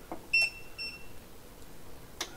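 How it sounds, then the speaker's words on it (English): An EcoFlow Delta Pro portable power station with its battery attached gives a couple of short electronic beeps after its power button is pressed, faint in a quiet room. "I get the beeps."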